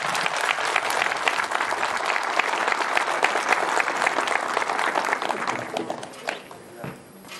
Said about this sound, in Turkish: Sizden de ona bir alkış istiyorum.